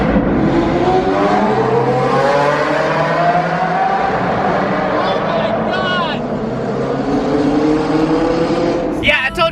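Mercedes-AMG GT sports car revving at a car meet: a loud, continuous engine roar that climbs in pitch and holds close by. Crowd noise and voices sit underneath, and a sharp burst comes at the very end.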